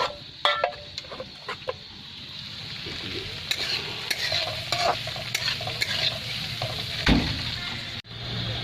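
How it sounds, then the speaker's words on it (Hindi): Spinach greens added to a fried tempering sizzle in a pan in a cooking setup inside an Indian truck, while a spoon scrapes and stirs in repeated strokes, close and steady throughout. "तड़का फ्राई करके पालक साग डाल दिए हैं, ये भी फ्राई हो रहा है।"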